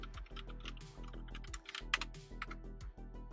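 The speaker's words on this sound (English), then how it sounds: "And so I started just typing crap" Rapid, steady typing on a computer keyboard, close and clear, with dense clacking keystrokes and no talking.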